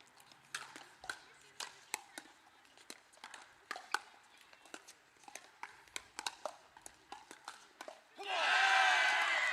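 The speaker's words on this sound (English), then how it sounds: "And we hear the UVA crowd roar" Paddle pops trade back and forth in a fast college pickleball rally between UVA and Tech at the NCPA Virginia Regional, then a loud crowd roar swells up at the end.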